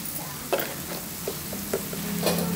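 Eggplant fries in a pan with a soft steady sizzle, punctuated by several close, distinct scrapes and taps of a spoon stirring the pieces.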